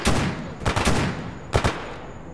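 Close, loud bursts of automatic gunfire in STALKER GAMMA, with three quick clusters of sharp shots separated by brief gaps and fading echoes.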